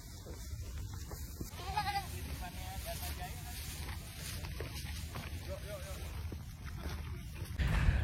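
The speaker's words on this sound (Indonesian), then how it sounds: "sama kambing-kambing." Goats bleat a few times at the Formula E circuit site in Ancol, Jakarta, short wavering calls heard at moderate distance under steady outdoor background noise, with a person talking at times.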